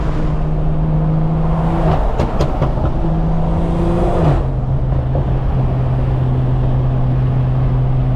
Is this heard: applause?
no